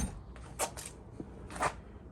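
Door of a Nissan S13 fitted with a new body kit, opened and closed: a few faint latch clicks and thuds at close range, the loudest two spaced about a second apart over a low background.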